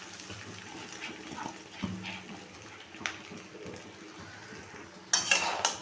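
Cooked rice is stirred into a pan of melted butter, chopped garlic and green chilli for egg fried rice, with soft scraping and light utensil clinks ending in a louder clatter.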